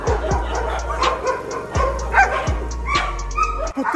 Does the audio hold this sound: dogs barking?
yes